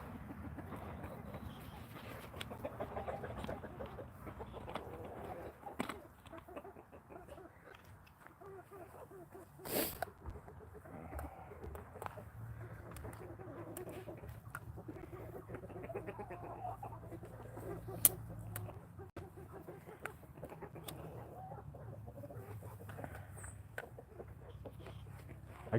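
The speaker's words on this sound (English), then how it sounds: "Come on, chickens, coop up." Farmyard chickens clucking faintly at a distance in a steady, low-level scatter of calls, with a brief sharp knock partway through.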